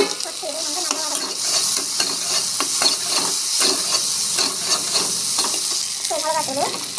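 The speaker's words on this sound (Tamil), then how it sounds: "வெண்டைக்காய் வந்து போட்டுக்கலாம். போட்டு இதுவும் வந்து நல்லா வதங்கணும்." Okra sautéing in a pan with onion and tomato, a loud, dense sizzle that holds steady throughout, punctuated by repeated scraping strokes of a stirring spoon.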